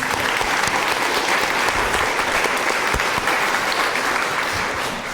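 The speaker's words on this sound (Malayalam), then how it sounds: "ഒരു നല്ല കയ്യടി." Audience at a Malayalam Christian growth retreat in Pala claps warmly for the singers and the Lord, dense continuous applause, loud and even from start to finish, fading slightly at the very end.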